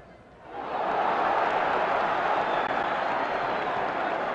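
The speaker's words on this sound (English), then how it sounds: "Patterson brought the crowd up with that one." Boxing arena crowd at a Floyd Patterson versus Oscar Bonavena heavyweight fight swells into a loud, sustained roar of cheering that rises after half a second and holds steady to the end.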